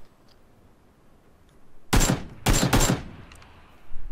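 Gunfire in a battle royale game: after a quiet lull, a sharp close burst of automatic shots rings out, followed by a second, longer rattling burst, then faint shots trailing off.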